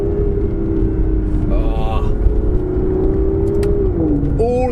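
Aston Martin Vanquish with a 177-derived exhaust system revving, its engine tone rising and dipping steadily with brief crackles and pops near the end, heard from inside the car over a constant road rumble with some talk.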